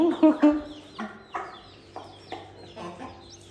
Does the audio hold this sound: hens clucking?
yes